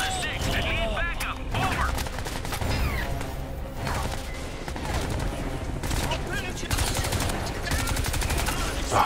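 SCAR rifle gunfire in Crysis 3, dense rapid automatic shots that continue almost without pause, mixed with crashes, mechanical clatter and a voice speaking at times.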